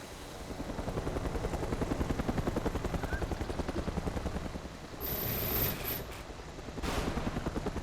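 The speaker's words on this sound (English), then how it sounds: "This is one of the helicopters that has a tendency of disappearing as soon as he gets out." Helicopter in the video game Mercenaries 2: World in Flames, a rapid rhythmic rotor chop thudding steadily, moderately loud, with a few brief bright bursts of other game noise partway through.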